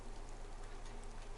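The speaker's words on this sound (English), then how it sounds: "if they never played on Livonia, it rains all the damn time" Steady rain falls in the DayZ survival game on the Livonia map, a soft, even hiss of drops with no voices.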